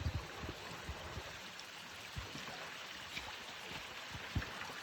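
Creek water flows along a hiking trail in Big Canoe, Georgia, a soft, steady broadband rush with faint irregular splashes, fairly quiet and continuous with no voices.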